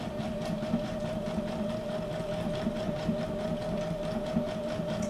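A sewing machine runs steadily through a handmade junk journal built from a Little Golden Book, a continuous mechanical whir with a faint rapid stitching patter throughout.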